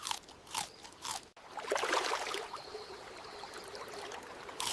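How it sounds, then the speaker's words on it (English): Crunchy, wet chewing of tough raw meat, close and fairly loud, with a few separate bites at first and then continuous grinding and squelching mastication. "Early humans spent countless hours chewing."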